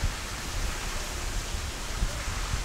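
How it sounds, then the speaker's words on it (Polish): A garden fountain splashes beside a retention pond at a Florida house, producing a steady, even hiss of falling water with no other sounds over it. "I mamy też fontannę, którą teraz słyszycie, ten taki szum."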